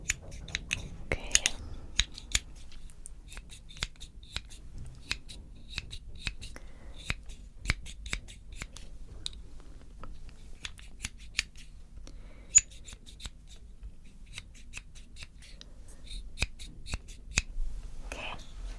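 Thinning scissors cutting hair during an ASMR barber shop haircut: close, crisp repeated snipping in irregular bursts of quick clicks, quiet and intimate, with soft spoken remarks in between.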